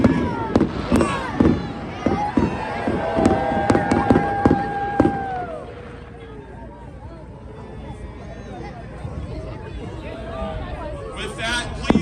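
Christmas fireworks bursting over a Victorian town, a rapid run of sharp cracks and bangs for the first five seconds, then a steady crowd murmur with scattered distant pops and cheers.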